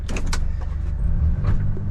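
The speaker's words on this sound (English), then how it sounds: "Now this door will go down all the way just like normal." Powered door window on a John Deere Gator utility vehicle sliding down, a steady motor whir under a running engine, with a few clunks and rattles from the cab.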